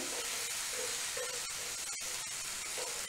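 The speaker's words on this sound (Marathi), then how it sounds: "मटार छान परतून घ्यायचे।" Green peas sautéing in a pan give off a steady, close hiss with a few faint scrapes and clicks along the way.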